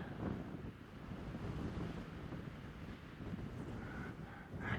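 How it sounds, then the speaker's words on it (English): Steady, blustery wind on the top of Tynehead Fell in the North Pennines buffets the microphone in a continuous low roar, gusting slightly stronger toward the end. "It's not bad up here, but very windy."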